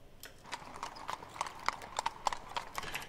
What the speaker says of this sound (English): it seems off to see the horses standing and then to be hearing the clippity-clop